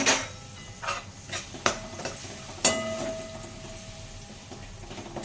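Eggplant stuffing being mixed with tomato in a pan, with scattered clinks and scrapes of a utensil against the pan at an irregular pace over a soft background hiss.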